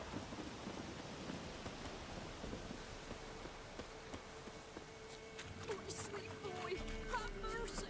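A thunderstorm in The Witcher 3 video game, with steady rain hiss and low rolling thunder rumbles, fairly faint and continuous throughout.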